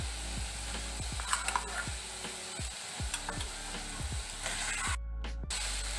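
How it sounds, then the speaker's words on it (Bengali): Ginger garlic paste fries in a pan with a continuous sizzle, while a spoon stirs and scrapes it in a quick, irregular rhythm; the sound cuts out briefly near the end. "আদা রসুন হালকা করে ভেজে নিয়েছি"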